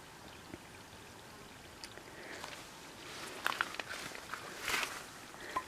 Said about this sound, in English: the siphon pump is just filling the bucket all on its own